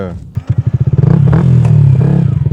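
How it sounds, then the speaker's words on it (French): A motorcycle sets off around a small track, close and loud, its engine pulsing in quick rhythmic bursts before rising into a sustained revving pull as it accelerates. "Donc je prends de la moto et on va faire le tour."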